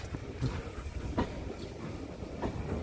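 A West Somerset Railway heritage train rolling past, with wheels clattering rhythmically over rail joints and a steady rumble, fairly close and with no voices.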